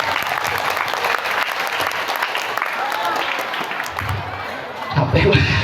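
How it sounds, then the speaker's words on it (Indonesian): A school audience claps for its teachers in a dense, sustained round of applause that holds steady throughout, with a few voices mixed in near the end. "Tepuk tangan untuk Bapak dan Ibu guru."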